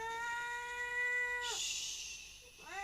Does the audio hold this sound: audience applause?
no